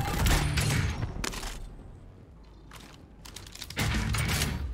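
Gunfire in Call of Duty Warzone on Rebirth Island, with loud bursts of rapid shots at the start and end and a quieter stretch with a few scattered shots between them.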